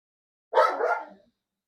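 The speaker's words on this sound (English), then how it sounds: "And barking dogs." A single short bark-like dog vocalisation at moderate distance, one burst lasting under a second in an otherwise quiet home setting.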